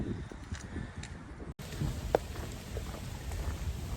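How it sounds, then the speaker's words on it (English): Steady rain falls on the West Highland Way in Scotland, a continuous close hiss of drops on leaves and ground with occasional heavier patters, no voices. "So the rain has started."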